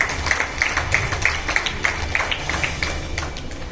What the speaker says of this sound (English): A big round of applause for all these diamond patrons, please.